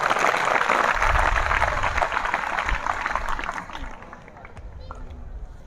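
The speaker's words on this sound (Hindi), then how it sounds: "इन सभी वैज्ञानिकों के लिए एक बार पुनः जोरदार ताली।" A crowd at a student event claps loudly for the ISRO scientists of the Chandrayaan-3 mission; the dense applause fades after a few seconds and leaves quieter room noise with voices.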